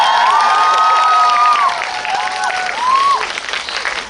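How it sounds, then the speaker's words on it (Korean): An audience applauds at a film star's fan event in a cinema, with sustained clapping and scattered shouts and cheers throughout. "박수 한 번만 부탁드릴게요"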